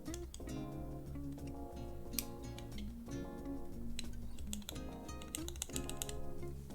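Keys being pressed on a Keychron Q1 mechanical keyboard during a build with only a few keycaps fitted, quick irregular clicks over a constant background hum.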